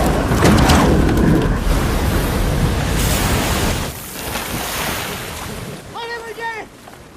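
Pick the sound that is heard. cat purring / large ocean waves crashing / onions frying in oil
large ocean waves crashing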